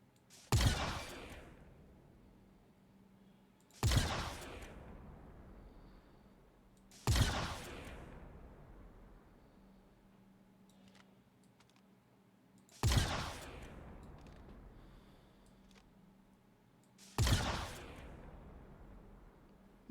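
Gunshots in a video game set on Daymar, five sharp, isolated reports spaced a few seconds apart, each with a short decaying tail, fairly quiet overall with no talking between them.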